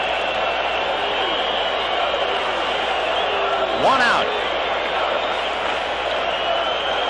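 A large ballpark crowd at a World Series game roars continuously, with a broadcaster talking over the swelling cheers and a brief sharper burst of noise partway through.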